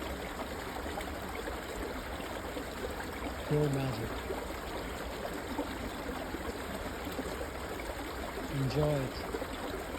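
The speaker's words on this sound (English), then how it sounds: "The pure magical sound of the snow melting into pristine water." Snowmelt water trickles in a small stream outdoors, a steady soft babble running throughout while someone speaks briefly twice over it.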